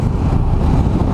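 A big air-cooled engine on a Ducati Multistrada 1100S adventure motorcycle runs steadily while being ridden, a dense low rumble blended with wind rush, constant and loud with no talk.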